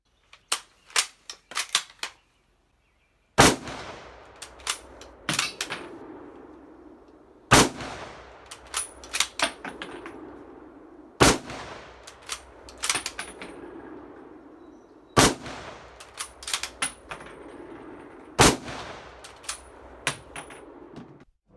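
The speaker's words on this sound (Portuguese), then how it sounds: "para quem tá curioso para saber como são os disparos reais de um Springfield" Real Springfield M1903 rifle shots sound as sharp, loud cracks with echoing tails. They come singly and in quick clusters, spaced a few seconds apart, and each report rings out and decays before the next.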